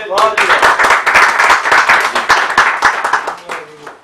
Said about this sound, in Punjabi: ਭਰਪੂਰ ਤਾੜੀਆਂ ਜੀ